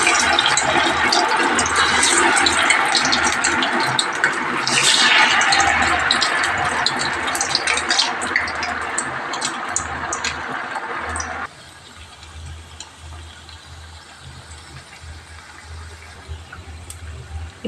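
Rice vadas dropped one by one into hot oil give a loud, dense sizzling hiss that runs steadily, then drops abruptly to a quieter, fainter bubbling for the rest; no one speaks.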